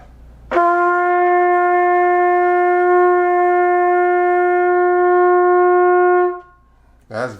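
A trumpet with its tuning slide pushed fully in plays one sustained note, very sharp, loud and steady for about six seconds before cutting off, with a short vocal sound just after.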